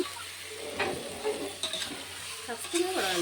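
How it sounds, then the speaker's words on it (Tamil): Chicken sizzles in hot oil while a spoon stirs and scrapes the pan in intermittent bursts, close up. "இப்போ எண்ணெயில் சேர்த்து நல்லா வணக்கி விட்டுருலாங்க"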